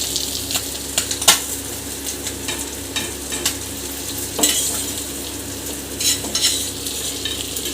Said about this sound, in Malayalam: അപ്പോൾ നമ്മുടെ മീൻ സൂപ്പറായിട്ട് ഫ്രൈ ആയിട്ടുണ്ട്